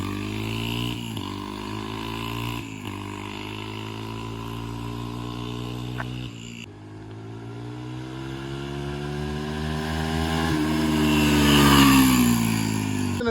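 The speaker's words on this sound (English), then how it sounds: "rev it pretty high in 5th gear" A dirt bike fitted with an oversized rear sprocket revs hard through the gears, its engine note climbing repeatedly and dropping with each shift, loud and close, rising to a high scream near the end.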